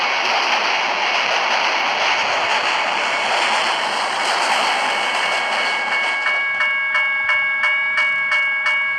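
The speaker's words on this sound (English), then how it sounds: "Bro, this long train." Long train passing a crossing in a video game, a loud sustained broadband rush and rumble, then a crossing bell ringing in a steady repeating rhythm as the wagons roll by.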